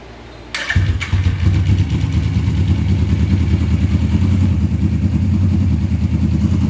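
A Suzuki GS450 cafe racer motorcycle starts up after a brief starter whir, then settles into a loud, steady, close idle with an even rumbling pulse and no talk.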